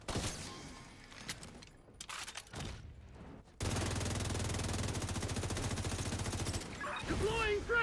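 A Negev machine gun fires in a video game, a long unbroken burst of rapid shots lasting about three seconds after a few scattered earlier shots, loud and close.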